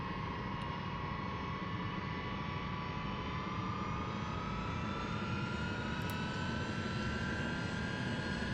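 Simulated airliner engines in the X-Plane 10 flight game during a power pushback on the ramp, a steady loud jet whine and roar with a slowly rising tone, continuous throughout with no talking.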